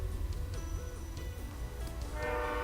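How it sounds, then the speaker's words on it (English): A train passes by outside a house, its steady low rumble filling the background while faint rhythmic clicks and a wavering tone sit on top, with the sound swelling slightly toward the end. "you probably hear the train going through"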